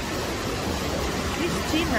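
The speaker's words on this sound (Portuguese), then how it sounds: "Você está no pé da Cachoeira da Gruta." Cachoeira da Gruta, a waterfall near Cristina in the São Lourenço region of Minas Gerais, gives a dense, steady rushing roar close by while someone speaks briefly over the water.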